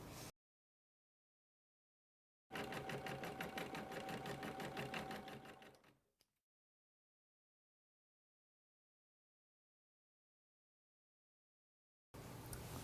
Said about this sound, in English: We're going to stitch this one, so we'll select it and press sewing.